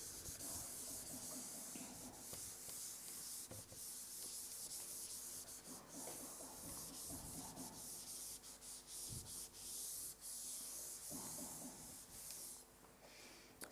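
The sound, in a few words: rubbing writing off a board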